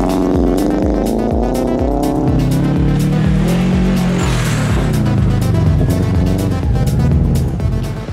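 A stock Land Rover Defender pulls away with its engine revving loud and close, a continuous rising and falling drone over the whole stretch with no talk.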